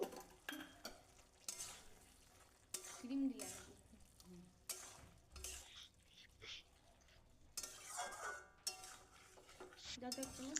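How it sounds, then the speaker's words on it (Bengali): Cashew paste with bottle gourd being sautéed in a pan: a spatula scrapes and stirs in irregular bursts over a soft sizzle, close and fairly quiet, with brief pauses between strokes. "কাজু বাটাটা দিয়ে বেশিক্ষণ কষাবো না, খুব অল্প টাইম কষাবো।"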